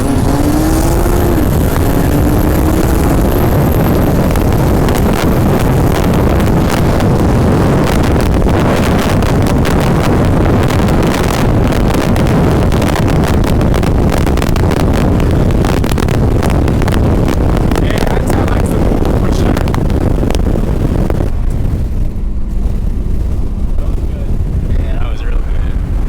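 A big-turbo BMW 340i and a fully built Supra race side by side; loud engine roar and heavy wind rush from inside a moving car fill the whole stretch, fading near the end.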